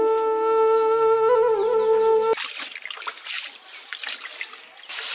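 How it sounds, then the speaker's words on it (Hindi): A steady tone plays for about two seconds before it gives way to tap water trickling and splashing while an ash gourd (petha) is washed for a sweet; the water sound is close and moderately loud. "इसको पहले धो लेते हैं हम।"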